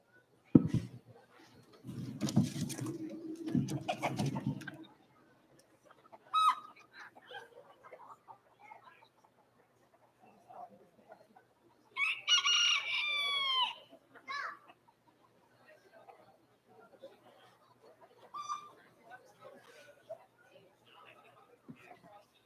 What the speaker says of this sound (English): Old English game bantam, and he's a brassy back.